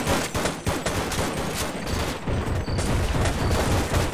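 Turret gunfire in the video game Sven Co-op, They Hunger mod, fires loud, dense, continuous rapid bursts throughout with no pause.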